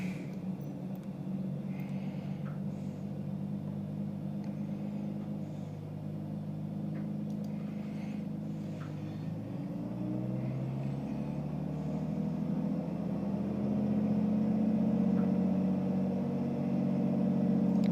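A Cirrus SR22 piston engine in Microsoft Flight Simulator holds a steady low drone during a run-up, swelling louder partway through as the revs climb and then settling at a higher, even pitch.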